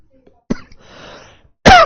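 A single sharp cough up close, followed by a brief breathy pause and then another loud cough.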